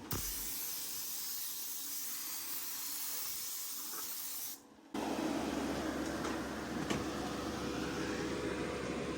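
Steady spray-can hissing in a paint booth runs continuously over a model car, pausing briefly midway before resuming louder and broader.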